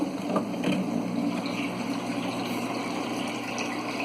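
Water gushes forcefully out of an aquarium sump outlet driven by a washing machine pump, a steady, close rushing and splashing with a continuous pump hum.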